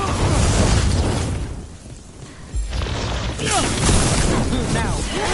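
Explosions crash and boom amid combat in the Dragon Age: The Veilguard video game, a dense loud barrage of blasts and debris with a brief lull in the middle and voices shouting over it.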